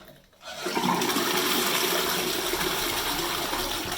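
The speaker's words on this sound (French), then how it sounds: "Vous écoutez le bruit là dans la cuvette, dans le réservoir" A toilet flushes after a broken wall-mounted cistern is replaced, starting with a loud rush of water through the bowl and tank that keeps gushing steadily and close by.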